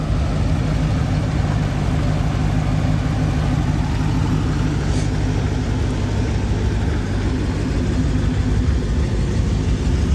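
2016 Dodge Challenger Hellcat with its 707-horsepower engine idling, a loud, steady low rumble that holds unchanged throughout, heard close and alone.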